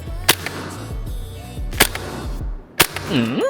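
A Maruyama SCW9 Pro gas blowback airsoft submachine gun fires three separate semi-auto shots, each a sharp, snappy crack, spaced about a second apart over a steady background hum, close to the microphone.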